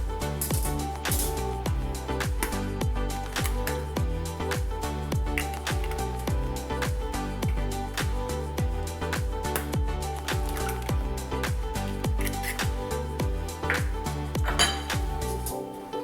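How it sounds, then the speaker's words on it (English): A fork beating eggs into mashed banana in a bowl for pancakes, a rapid, steady clinking and tapping against the bowl that continues close and even for a long stretch. "Using the same fork, lightly beating the egg with the mashed banana mixture."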